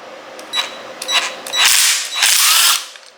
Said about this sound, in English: then we're going to use the impact right on here